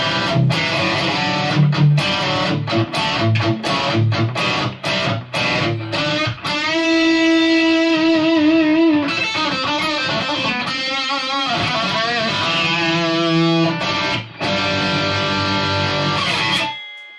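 Distorted electric guitar played through a Kemper profile of a modded Marshall GCM 800 amplifier, loud and continuous with palm-muted chugs giving way to sustained ringing chords and riffs, no talking.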